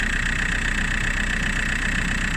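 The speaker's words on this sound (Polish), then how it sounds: "ja czekam aż mi się rozgrzeje silnik" An Opel Insignia car engine idles while warming up with a steady, even rumble and a constant mid-pitched hum, running alone with no talk.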